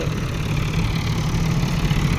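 A tractor engine runs at a worksite with an even, steady drone throughout, close and unchanging.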